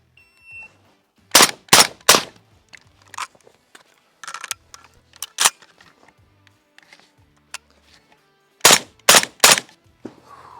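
A Mini-14 rifle fires in short clusters of sharp, loud close shots, three quick reports, then scattered clicks and handling noises during reloading, and another tight volley of three shots near the end.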